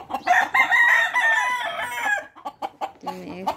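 A rooster kept by a cockfighting breeder crows loudly and close, one long drawn-out call filling most of the moment, followed by a few short clucks and a brief low note at the end.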